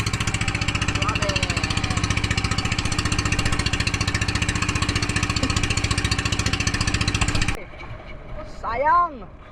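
A small fishing boat's engine chugs loudly in a fast, steady pulse, then cuts out abruptly and falls silent, leaving quiet water and a brief rising voice afterward.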